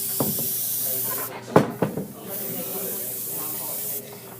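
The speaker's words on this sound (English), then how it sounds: "You press down the trigger for air and then pull back for paint." An airbrush releases air and paint in short hissing bursts, with a few sharp trigger clicks and a softer steady spray near the end.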